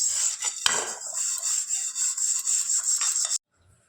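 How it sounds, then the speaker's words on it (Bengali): A kadai wok being scrubbed clean during dishwashing: continuous rasping, abrasive strokes close to the listener, with one sharper knock early on, stopping abruptly into near silence. "দেখো আমার কড়াইটা মাজা হয়ে গেছে।"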